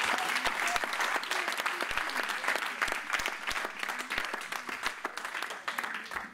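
A church congregation applauds with sustained, dense clapping that fills the room and stays loud and even throughout.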